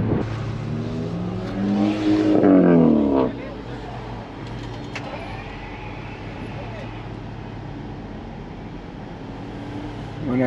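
A classic BMW 2002 drives past during Monterey Car Week, its engine note swelling loud and close for a few seconds before fading into steady traffic and road rumble, with a voice talking throughout.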